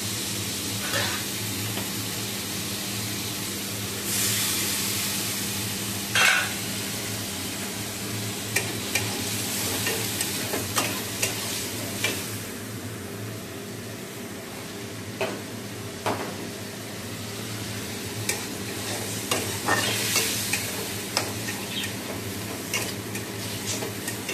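A paste of coriander, cumin and ginger goes into a light, nearly oil-free fish curry in a pan, with a soft steady simmering sizzle and occasional sharp clicks of a spoon stirring against the pot; no talking.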